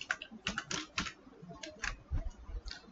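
Keys clatter on a computer keyboard during coding, a close run of quick, irregular clicks in short bursts with small pauses, heard alone without talk.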